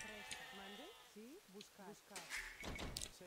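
Sheep in the Age of Empires II video game bleat in a quick run of wavering calls, close and clear, followed by soft in-game clicks and ambient effects.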